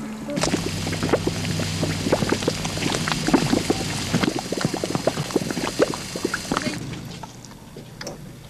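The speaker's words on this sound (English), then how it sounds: "this giant cauldron of boiling mud, a gurgling melting pot kept active by the heart of the Earth's interior" A boiling mud pool at the Rotorua thermal area gurgles and plops close up, a dense run of irregular bubbling bursts and wet pops that thins out near the end, with no talking.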